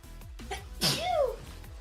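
One small sneeze cuts in during a game session, brief and close, with a quick sharp burst and a short sliding tail over faint background murmur.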